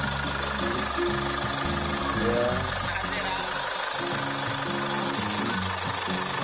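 Chevrolet Captiva engine running at idle during a brake master cylinder bleeding job, a steady low rumble with faint knocking texture, close and continuous, with brief speech over it.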